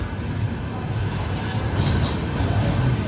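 A Hyderabad Mumbai Express train rumbles past nearby at a station, a steady low roar of wheels and carriages with faint clatter, continuous throughout with no speech.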